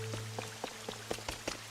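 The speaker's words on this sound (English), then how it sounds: "Love the rain dropping into the water." Rain dropping into water in the Pokemon Pokopia video game, a scatter of distinct drips and plinks landing over a soft steady ambient hum.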